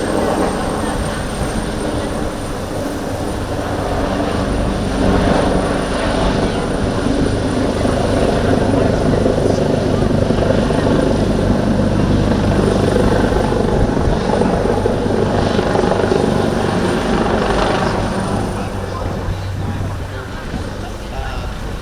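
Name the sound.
139 medium-sized utility helicopter flying at airshow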